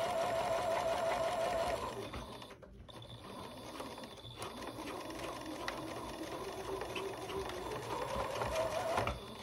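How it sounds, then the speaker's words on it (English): A sewing machine stitches new curtains for a 1984 Chris-Craft Catalina 381 boat, running in a steady continuous whir with a brief pause partway, fairly close and without talk. "here comes the last of the stitches for the curtains"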